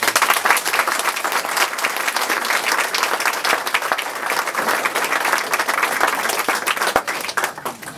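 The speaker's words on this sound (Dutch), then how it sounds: "En dat vind ik wel een applausje waard." Audience applause fills a foyer at a Hellevoetsluis art and music event, a dense, steady clapping from a crowd that holds for several seconds.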